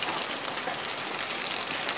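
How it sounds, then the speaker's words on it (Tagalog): Heavy rain pours steadily outdoors at Caliraya Lake, a dense, constant hiss of drops on surfaces that holds at an even level throughout, with no voices. "Grabe yung ulan. Ayun, ulan ng ulan."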